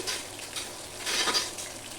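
Onion, curry leaves and dried chillies tempering in hot oil, a brief steady sizzle up close with light stirring and a slight swell partway through; no one speaks.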